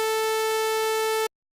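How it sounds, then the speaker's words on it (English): A square wave tone sounds alone, a bright, buzzy, reedy steady note with rich overtones, held for just over a second at even loudness before stopping abruptly. "Square wave."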